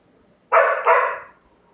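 A dog lets out two quick barks in close succession, fairly near and clear against an otherwise quiet room.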